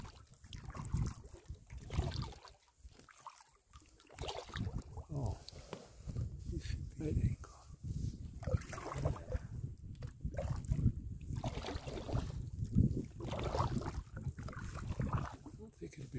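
Packraft floating down a wide creek where two creeks join, with soft water trickling and lapping against the boat under steady wind noise on the microphone, and a person talking at times.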